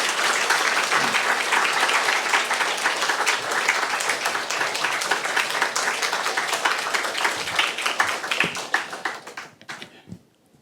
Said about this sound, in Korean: 목사님 나오실 때 따스한 박수로 환영하겠습니다